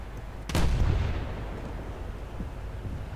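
Naval gun salvo from a warship in War Thunder: one sharp, loud boom that rolls off into a long low rumble, with a few faint distant thuds in the background afterward.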